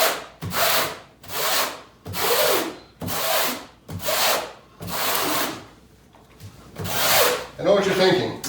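A steel notched trowel combs thin-set mortar across Schluter-DITRA membrane in about eight steady scraping strokes. Each stroke is a loud, close, gritty rasp, with brief pauses between passes.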